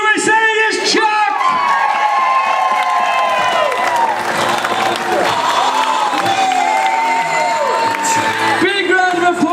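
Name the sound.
crowd cheering and applauding belly flop winner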